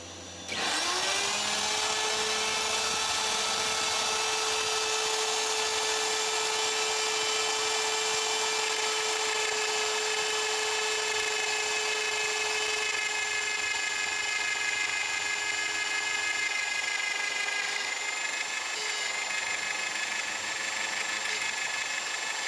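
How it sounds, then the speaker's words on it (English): A handheld router fitted with a small round nose bit shapes the transition from square to round on a wooden table leg. It gives a loud, steady, high-pitched motor whine with a cutting buzz that runs unbroken for the whole stretch. "swapped out our flat bit for a little round nose bit on the router"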